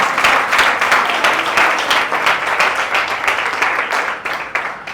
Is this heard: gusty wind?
no